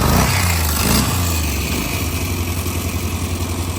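A free four-wheeler ATV engine catches and runs after a choke start on a partly charged battery, a rough loud idle with a steady low throb and a brief rev at the start.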